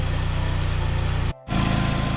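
A 200,000-mile SAAB 9-5 engine idles in a driveway with a steady, close, low rhythmic rumble that drops out in a brief gap before resuming unchanged.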